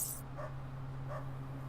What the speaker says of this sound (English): Oh, there's a puppy in here.